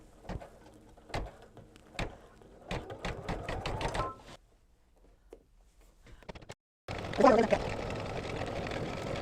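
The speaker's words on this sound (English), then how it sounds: "And let's stitch a few stitches." A Baby Lock embroidery machine stitches in-the-hoop quilting, a steady mechanical whir of needle strokes close by, broken by short pauses and a quiet stretch, then resuming loudly toward the end.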